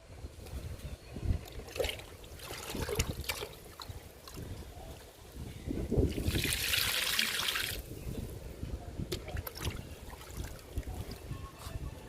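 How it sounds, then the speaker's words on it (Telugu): Liquid fertilizer pouring onto gongura plants growing in a tub, a steady splashing trickle that swells louder in the middle, then tapers off, with no talking. "ఇప్పుడు ఈ గోంగూరకు కూడా లిక్విడ్ ఇచ్చేద్దాము"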